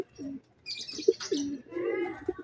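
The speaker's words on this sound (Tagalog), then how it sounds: "Ayan pa mga kaibon" Pet pigeons in Alaminos, Laguna coo softly nearby, several low rolling coos and a few short chirps in quiet surroundings.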